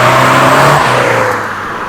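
A Vauxhall Corsa VXR with a decat and delete pipe revs loudly up close, a strong rising engine note that eases off toward the end, heard alone.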